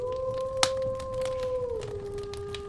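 A wolf howl sound effect rises as one long sustained wavering note, then slides lower toward the end, loud and clear over faint background noise with a brief click partway through.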